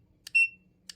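A newly installed TPMS tire pressure monitor gives a short, sharp electronic alarm beep while it is being set up. A single steady high tone plays between soft clicks.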